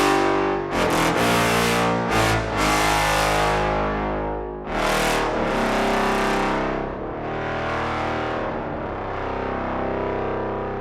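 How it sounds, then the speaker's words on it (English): Infinite Brass sample library brass play in octaves with a contrabass, giving loud, full sustained chords. Several swelling attacks come in the first seconds, then a big chord that rings and decays slowly, with no talking. "And now if you do it in octaves and with a contrabass too, it sounds like this."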